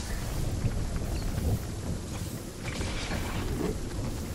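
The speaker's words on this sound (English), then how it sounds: "this storm is coming quick" Storm in a squad video game: heavy rain hisses steadily while low thunder rumbles and swells, loud and close, with no voices.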